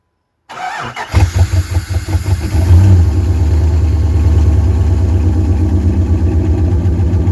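A 1998 Jeep Grand Cherokee 5.9 Limited V8 cranks briefly, catches and fires up, then settles into a loud, steady, close-up idle with a slightly uneven rumble.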